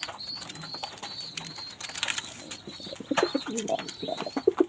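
Pigeons tending their chicks coo softly and repeatedly at close range, with faint chirps and rustling against a quiet outdoor background while a person talks nearby.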